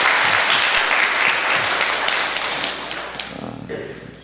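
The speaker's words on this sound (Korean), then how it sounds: "박수를 치는 겁니까? 안 치는 겁니까?" A church congregation breaks into dense applause after its pastor mentions a 25th wedding anniversary trip, the clapping loud at first, then thinning and fading out toward the end.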